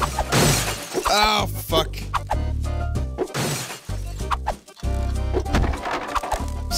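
Stock breaking-glass effects in the GTA IV video game: loud repeated shattering crashes over dense game noise, with a man swearing briefly at the start.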